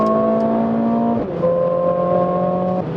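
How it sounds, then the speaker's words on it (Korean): A Mercedes-AMG CLA 45 S 4Matic+ with its 2-litre engine in Sport Plus mode revs hard under way, a loud, steady climbing drone that drops briefly at a shift and then climbs again, close and with no talk over it. "엔진 사운드가 대단하죠"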